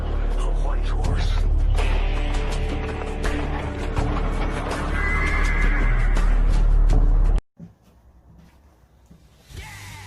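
A horse gives a loud, close whinny over a heavy low rumble of music or effects, then everything cuts to near silence with faint noise at the end.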